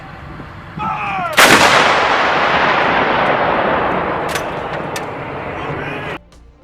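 Soldiers launch a Javelin missile, its firing producing a sudden loud blast that roars on for several seconds before cutting off, preceded by a shouted command and followed by faint distant pops.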